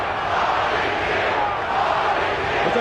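The arena crowd at the Tyson vs Holyfield heavyweight boxing fight keeps up a dense, steady roar throughout, loud and distant-sounding with no single voice standing out.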